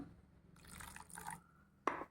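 A short trickle of water pours into a thick semolina dhokla batter, followed by a brief sharp splash near the end.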